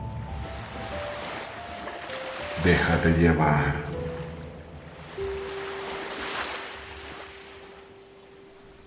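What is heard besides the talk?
sea waves, ocean surf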